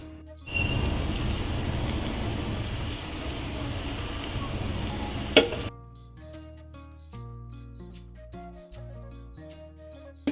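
Crushed chili and onions sizzle in a hot pan for beef roast, a dense broadband frying hiss that holds steady for several seconds, then drops away abruptly, leaving quiet tonal background sounds.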